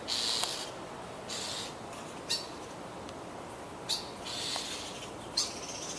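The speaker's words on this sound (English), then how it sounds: "It's like the bird is trying to scream for help." Shrill screams from a small, seemingly dying baby bird near a window come in scattered bursts, some drawn-out and some short and sharp, close by against a quiet outdoor hiss.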